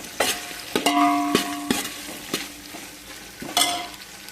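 Coriander and mint being stirred as they fry in a pan for bagara rice, with repeated scraping strokes of a spoon against the metal over a steady sizzle, close and fairly loud with no talk.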